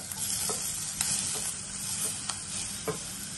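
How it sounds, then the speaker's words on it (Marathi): Chopped onion and tomatoes, with ginger, chillies and garlic, sauté in oil in a pan, a soft continuous sizzle broken by occasional light spatula taps and stirring scrapes. "टोमॅटो मऊ होईपर्यंत आपल्याला हे परतून घ्यायचं आहे।"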